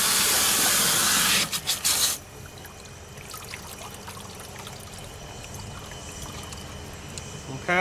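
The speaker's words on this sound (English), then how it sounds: "So I'm just going to take a little water and put it back in there." Water poured by hand into an automatic livestock waterer trough, a steady loud splashing pour for over a second that then breaks into a few trickles and stops, leaving quiet background.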